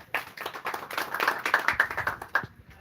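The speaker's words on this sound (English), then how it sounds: "Come, let's give our minister a round of applause." An audience at a ministerial event in Ngariam, where new curriculum textbooks are handed out to schools, claps in a round of applause: dense, uneven hand claps building for a couple of seconds before tapering off.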